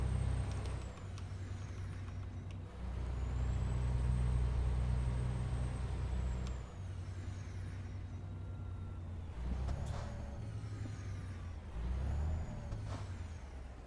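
Heavy truck engine rumbling and idling in American Truck Simulator, with sharp hissing bursts of air brakes and faint beeps, several releases spread across the stretch.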